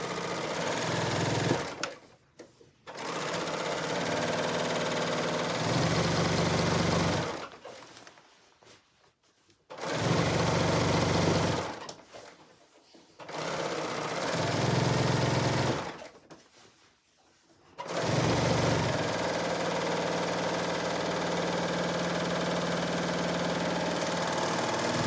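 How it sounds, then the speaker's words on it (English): A serger runs in four bursts of several seconds each, a loud close whirring hum separated by short pauses, as it sews the side seams of slippery fabric. "I'm going to go ahead and serge the edges"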